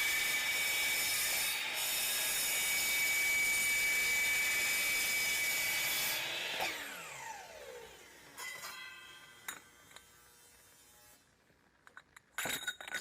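Saw blade cutting aluminum pieces for fabrication, a loud sustained whining screech for about six seconds, then the blade spinning down with a falling pitch and a few scattered clanks and knocks afterward.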